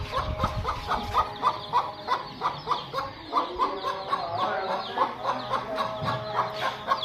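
Chickens and chicks in a Pakistani village cluck steadily in a busy, rhythmic chatter, fairly close, with a few louder squawks mixed in and no talking.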